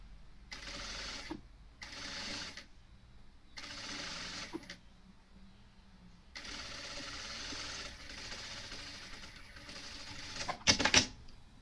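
A sewing machine stitches tricoline cotton fabric for a box bag, running in several short bursts and then a longer run separated by pauses, close and moderately loud, ending in a quick rattling clatter.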